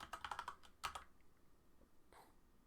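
Quick, light keystrokes on a computer keyboard in a short burst, followed by a few isolated clicks, faint against a quiet room.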